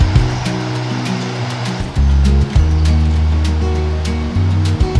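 The upper reaches of the Iguazu River in South America rush loudly and steadily, a dense continuous roar of turbulent water with a deep rumbling undertone and occasional sharper splashes throughout.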